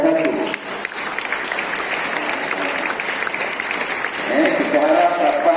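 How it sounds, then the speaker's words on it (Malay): A school audience claps for Form 1 students at a school programme launch, steady applause filling the hall with a few voices mixed in. "Beri tepukan untuk anak-anak tingkatan 1."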